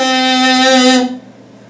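A voice imitates an air horn: one sustained, buzzy, brassy blast lasting about a second, then cutting off to near silence.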